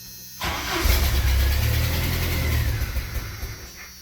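A Jeep engine with an ignition fault cranks hard for a few seconds in a loud, close, rumbling burst that stumbles as if briefly catching, then dies away.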